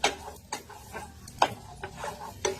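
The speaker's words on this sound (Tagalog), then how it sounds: "Nilagay natin ang sibuyas sa olive oil." Onion cooking in olive oil in a pan, a quiet sizzle broken by several distinct scrapes and taps of a utensil stirring at a close distance, with no voice heard.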